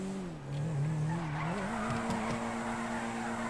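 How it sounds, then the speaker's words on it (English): A car in GTA 5 Online drifts with a sustained tire squeal that sweeps and wavers over a steady engine drone, loud and continuous from start to finish. "That drift was sick!"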